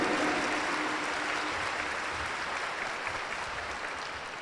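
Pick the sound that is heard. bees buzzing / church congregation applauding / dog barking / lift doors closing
church congregation applauding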